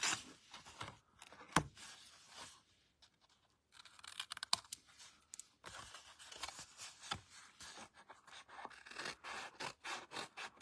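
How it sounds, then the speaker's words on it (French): Cardboard box corners are cut and bevelled with quick, quiet blade strokes, producing faint scraping and rasping cuts in irregular bursts with small taps and pauses between them. "Je coupe en hauteur le carré 1 et 3 et je biseaute"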